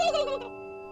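Turkey gobbling on a farm: one short, loud, warbling gobble that ends abruptly and is followed by a faint, steady hum.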